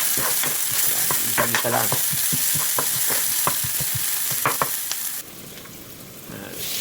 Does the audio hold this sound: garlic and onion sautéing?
yes